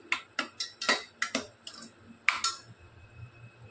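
A spoon stirs red masoor dal tadka in a pot, giving a quick series of close metallic clinks and taps in an irregular rhythm that fades toward the end.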